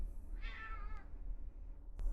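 A cat gives a single short, fairly quiet meow at close range over a low background hum.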